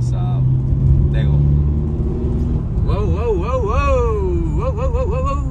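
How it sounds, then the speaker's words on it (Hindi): A Ferrari California on a night street in Gurgaon, its engine rumbling steadily and loudly up close while someone talks over it for much of the time. "इंजन की आवाज ज्यादा आएगी क्योंकि गाइस एक नंबर का रोर है यार फरारी"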